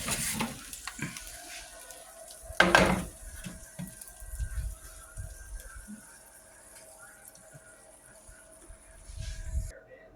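Chicken parmesan cooking in a pan, a soft intermittent sizzle with clinks and scraping utensil knocks, one sharp clatter early on; quiet and uneven, fading near the end.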